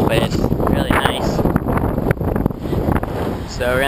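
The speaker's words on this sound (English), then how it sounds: "A little windy again, but it's really nice." Gusty wind buffets the microphone in a steady roar on a Hawaii shoreline hike while people talk over it.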